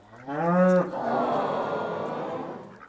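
A cow lets out a single loud, deep moo that rises and then trails off into a long breathy, rumbling tail, close and alone.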